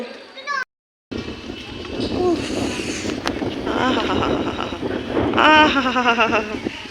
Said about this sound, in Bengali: কি সুন্দর হাওয়া গো